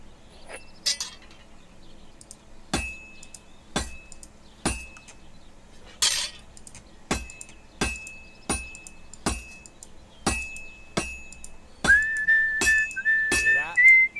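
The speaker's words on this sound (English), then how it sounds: "Hear that? Besides the sparks, you can tell a good strike by the sounding" Metal ringing on an anvil in Assassin's Creed Mirage, with a series of sharp, bright clanks spaced about a second apart, each leaving a short metallic ring, ending in a whistling tone.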